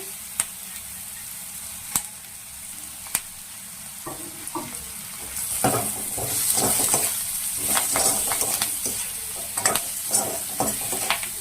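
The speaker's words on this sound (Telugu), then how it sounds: "ఈ గోల్డ్ కలర్ వచ్చేంత వరకు వేసుకుందాము" Onions frying in a pan until golden for a Telugu-style potato fry: a steady oil sizzle with sharp clicks and scraping as a spoon stirs, louder stirring bursts in the second half, no talking.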